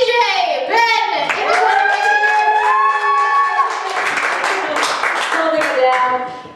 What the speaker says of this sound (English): I need you guys to clap extraordinarily loud for our DJ, Ben.